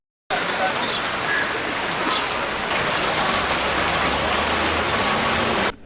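Heavy rain pours steadily and densely throughout, a constant close hiss of drops during flooding in the Lawakkalai and Colbrook area of Sri Lanka's hill country.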